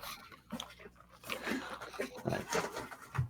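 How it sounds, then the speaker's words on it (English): A dog going to town on a cardboard box indoors, with irregular tearing, crunching and chewing bursts at moderate distance, while people talk over it. "You can hear your dog going to town on a box right now."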